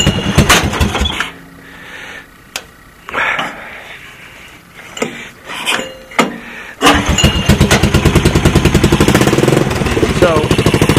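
Honda TRX200SX engine fitted in a 1988 EZGO UTV cranks in several short attempts between pauses, then catches and settles into a loud, steady, close idle, with someone speaking briefly early on.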